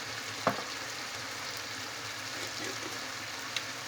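Cumin and nigella seeds sizzle in hot oil, a faint, even crackle with one sharp knock early on and a softer tap near the end.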